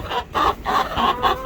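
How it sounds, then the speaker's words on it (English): Backyard chickens cluck steadily in a coop, four close, clear bursts of clucking in quick succession with short pauses between them. "Little wireless chicken camera. Check on the chicken."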